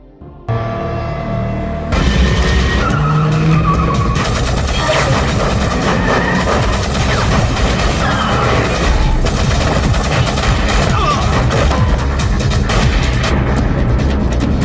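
A film shootout outside a restaurant fills the scene with loud, dense bursts of gunfire and mechanical clatter. The sound stays heavy and continuous throughout and is mixed with harsh, sliding tire noise.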